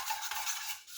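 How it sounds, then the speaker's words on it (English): A dough whisk stirs yeast and cane syrup together in a bowl, producing a brief, soft swishing and scraping at close range. "I'm going to grab my dough whisk. I'm going to mix this together"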